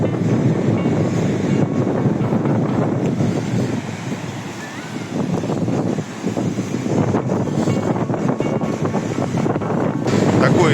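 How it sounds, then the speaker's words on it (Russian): Strong wind buffets the microphone outdoors on a blustery day in the seaside town of Zelenogradsk, a loud continuous low rumble that swells and dips throughout, with faint voices underneath. "Ох ты, какой сегодня ветер, вчера не было."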